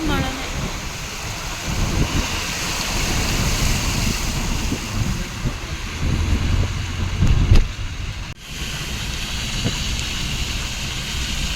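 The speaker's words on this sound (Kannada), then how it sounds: "ಫುಲ್ ಮಳೆ ಮಳೆ ಮಳೆ." Heavy rain pours steadily during a monsoon trip through the Malnad hills near Sakleshpur and Chikmagalur, a loud continuous wash with occasional rumbling gusts and a brief dip near the end.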